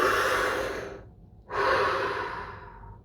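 During a guided meditation body scan, someone nearby takes a deep, audible breath: a long airy inhale, a brief pause, then a slow, breathy exhale fading away.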